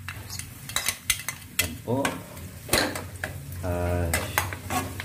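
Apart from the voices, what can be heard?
garlic sizzling and being stirred in a pan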